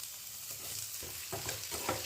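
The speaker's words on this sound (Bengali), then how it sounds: "আলুটা ভেজে নেব।" Potatoes frying in oil in a pan, a faint steady sizzle with a few soft stirring scrapes and bumps, quiet and close.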